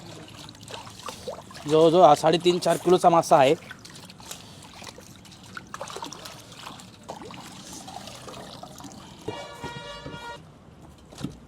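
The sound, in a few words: fish being washed with clean running water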